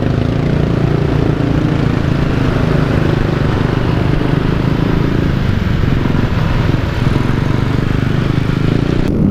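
Motorcycles ride past at a busy Sunday morning group ride in Jakarta, with a Harley and a green Kawasaki Ninja ZX among them. A loud, continuous engine roar fills the street throughout, with no talk.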